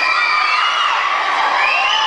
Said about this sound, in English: you just made Nat Wolf blind and deaf with all of that screaming